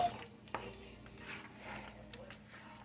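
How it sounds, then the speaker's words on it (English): Sloppy joe sauce simmering in a pan on medium low, a faint soft bubbling with occasional light stirring scrapes and clinks, quiet and close. "So this is down on medium low, and it is just sitting here simmering its little stuff away."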